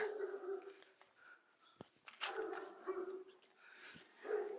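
A puppy yips and whimpers in short, high, uneven cries, a few sharp barks among them, fairly faint against quiet room noise.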